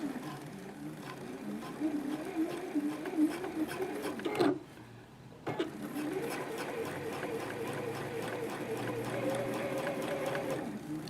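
A sewing machine stitches a rolled hem on fabric at a steady buzzing pace, pausing briefly mid-run before resuming. Faint handling sounds sit under the continuous hum.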